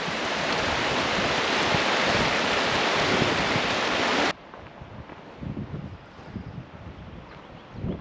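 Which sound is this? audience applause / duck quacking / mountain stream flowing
mountain stream flowing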